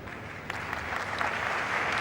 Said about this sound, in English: Little applause for the footballing skill there.